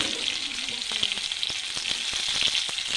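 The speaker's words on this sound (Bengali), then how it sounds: "আমি আলু আর বিট দিয়ে দিচ্ছি। এবার এগুলো ভালো করে ভেজে নেবো, লাল লাল করে।" Potatoes and beetroot fry in oil with panch phoron, giving a dense steady sizzle broken by light scraping taps of a spatula stirring the pan.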